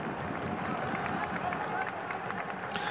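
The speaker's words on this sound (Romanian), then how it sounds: "S-au auzit aplauze la această intervenție a lui Căpățână" Stadium crowd at a Romanian top-flight football match between Universitatea Craiova and U Cluj, a steady roar of applause and cheering that continues throughout, with a commentator's voice speaking over it.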